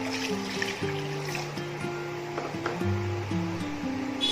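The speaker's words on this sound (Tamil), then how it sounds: "இப்போ இதில் 1 கப் தண்ணி ஊற்றிக்கலாம்." A cup of water is poured into a pan of chicken butter masala curry, a soft trickling splash heard close, under steady background music.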